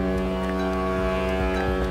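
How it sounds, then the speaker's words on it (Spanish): A deep, sustained ship horn blares loudly and continuously at the pitch of F sharp, its rich tone holding steady throughout. "en esta bocina de barco"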